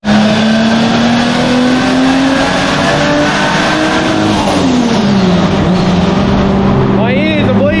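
A Nissan R31 Skyline engine roars at high, sustained revs on a hub dyno, loud and steady throughout with a slowly rising then dropping tone, and faint voices briefly audible near the end.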